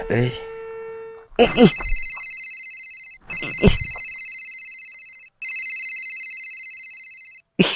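A telephone rings in repeated electronic bursts, loud and close, with short gaps between rings; someone talks briefly over the start.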